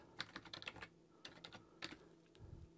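Quick, light clicks of typing on a computer keyboard while entering a word into a Word 2010 style setting, a short close run of keystrokes with brief pauses, faint and alone.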